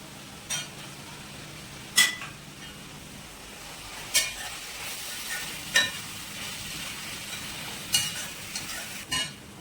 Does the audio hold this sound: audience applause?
no